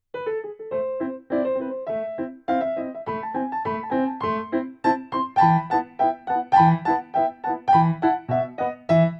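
Solo piano plays Mozart's Turkish March, a brisk, lively classical melody with quick repeated notes and steady rhythmic accompaniment, clear and close.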